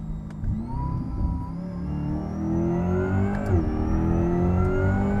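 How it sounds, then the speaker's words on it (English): A supercharged Corvette C8 E-Ray hybrid accelerates with a rising supercharger whine layered over a steady electric whir and engine drone, continuous and close, without talk. "the regular E-Ray kind of alien spaceship whir, and then you have the supercharger whine"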